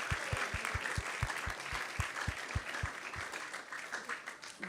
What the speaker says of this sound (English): let's give a big round of applause to everyone who has joined here